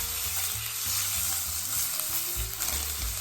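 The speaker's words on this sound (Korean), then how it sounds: "베이컨을 넣고 볶는다." Potatoes and bacon stir-fry in olive oil in a frying pan for a spinach frittata, a continuous close sizzle with scraping stirring strokes throughout, no voices.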